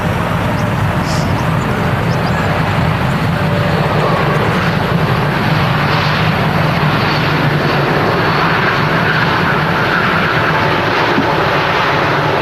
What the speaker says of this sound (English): It's the 787, looking awesome in the sun. Touchdown from Jeddah.